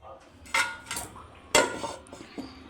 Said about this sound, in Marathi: झाकण ठेवलं त्याच्यावर